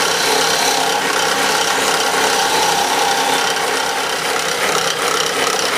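A woodturning gouge cuts a spinning two-by-four bud vase on a lathe, giving a continuous dense scraping hiss with a faint rhythmic rattle, close and steady with no talking.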